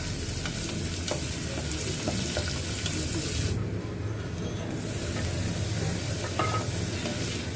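Cumin, curry leaves and green chili sautéing in oil in a pressure cooker, with a steady close sizzle and scraping stir strokes running throughout and no talk.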